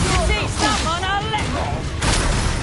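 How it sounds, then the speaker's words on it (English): Incendio fire spell cast in the game Hogwarts Legacy, with fiery bursts and booming blasts running through the clip under voices. "Another pitiful Incendio!"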